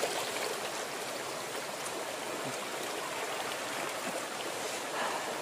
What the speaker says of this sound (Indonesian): Ini sungai kecil ya, dingin banget ini airnya, sangat jernih.